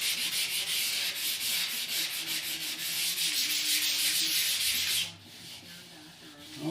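Sandpaper rubbing steadily across the wooden body of a DIY Les Paul guitar kit, a close, continuous scratchy hiss that drops off and goes quieter near the end.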